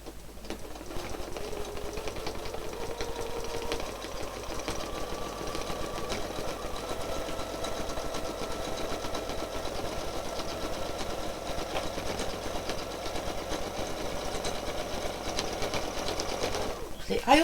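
A sewing machine stitches free-motion quilting through a quilt, running at a fast, steady whir with an even mechanical chatter for the whole stretch, close by, with a brief handling clunk right at the end.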